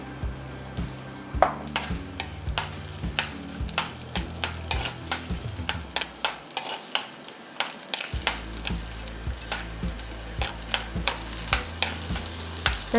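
Shallots, garlic and ginger sautéing in oil for a Kerala-style fish curry, with a steady sizzle and frequent sharp scraping clicks of a spoon stirring against the pan, alone and close.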